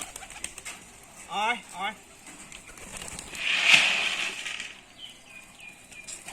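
Rajshahi Giribaz pigeons flap their wings in short bursts and coo softly at close range, while a man calls to them between the wingbeats.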